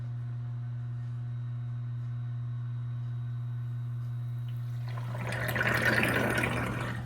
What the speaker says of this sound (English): And that's draining now. You can actually see it starting to swirl at the top. It's draining so fast.